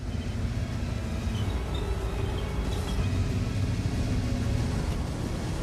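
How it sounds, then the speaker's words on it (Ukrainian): Tank engines and tracks from World of Tanks, sounds recorded from real armored vehicles at the Bovington tank museum, give a steady, loud low rumble with a mechanical grind throughout. "З новими ефектами двигунів і гусениць машини звучать по-різному."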